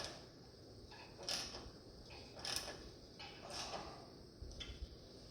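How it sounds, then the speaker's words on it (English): A ratchet tightens a bolt on a 1948 Chevy truck cab mount on an S10 frame, with four faint, evenly spaced rasping strokes of clicking, quiet and close with no talk. "Here, I'll just use the ratchet to tighten it back up with instead of fighting it."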